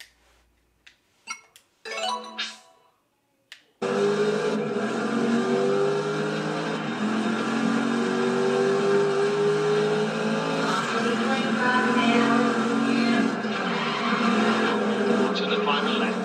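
Racing car engines in a video game streamed on Amazon Luna: a few short clicks and bursts, then a sudden, steady loud engine drone with rising and shifting revs that holds to the end.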